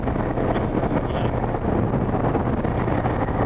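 Wind buffets a microphone while riding, a loud, constant rumbling roar that fills the whole stretch without letting up; no one speaks.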